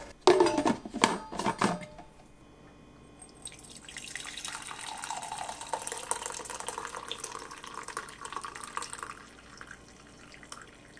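Hot coffee poured from a Keurig K-Duo Plus glass carafe into a cup, a steady liquid trickle rising in pitch as the cup fills, after a few sharp clinks of the carafe and cup at the start.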